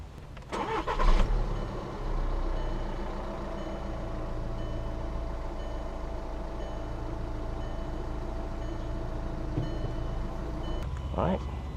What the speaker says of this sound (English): we will rev up, put the cap back on, rev up just to get the oil circulated through the fuel filter